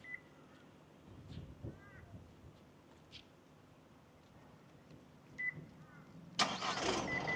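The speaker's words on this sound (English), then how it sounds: "it's a handy remote start. feature" A 2025 Isuzu MU-X X-Terrain starts remotely: a few faint chirping beeps sound over quiet surroundings, then near the end the engine cranks, catches and settles into a loud idle.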